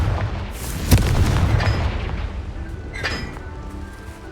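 A magical Confringo fire spell explodes in the Hogwarts Legacy video game with a sharp booming blast, followed by a rumbling tail and a second, smaller burst a couple of seconds later.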